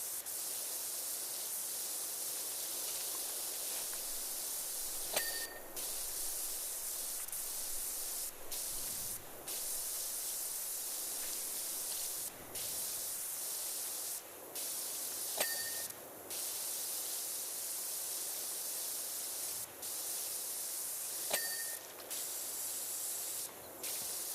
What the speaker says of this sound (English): let's extend our spray out